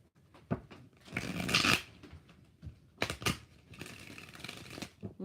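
Tarot cards being shuffled by hand, a series of riffling, papery bursts of varying length, close and fairly soft, with no talking.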